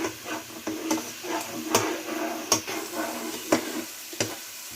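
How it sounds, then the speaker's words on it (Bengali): Spice paste fries in oil in a pan for a pangas fish curry, a moderate sizzle punctuated by regular scraping knocks of a spatula stirring, close and unaccompanied by talk. "এটা এখন আমি ভালোভাবে কষিয়ে নিব তারপরে মাছটা দিয়ে দেব"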